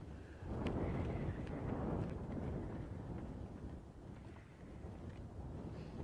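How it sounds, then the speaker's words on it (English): Strong wind gusting across the open Mara savanna in the morning, buffeting the microphone with a steady low roar that rises and eases, no talking. "It's very windy this morning."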